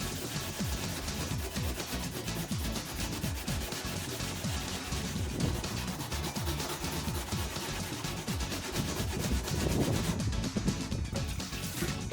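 A katana blade being sanded with 80 grit sandpaper, a dense, continuous scraping rasp of repeated close strokes over the whole blade, loud and steady throughout with no voices.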